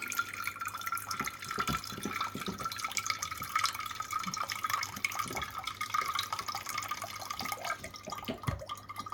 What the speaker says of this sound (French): on rince le pont en arrosant jusqu'à temps que l'eau devienne claire